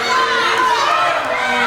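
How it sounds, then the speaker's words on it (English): A wrestling arena crowd keeps up a sustained, loud, droning chorus of boos aimed at wrestler Matt Freeman, a constant wall of voices with no break. "Chorus of boos here for Matt Freeman."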